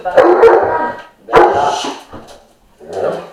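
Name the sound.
dog barking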